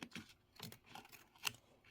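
Double-curved scissors trim fabric for a quilted holiday tote, giving a few quiet, crisp snips spaced irregularly and close by, with no talking.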